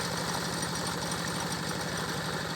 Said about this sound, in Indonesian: review cara mengendalikan traktor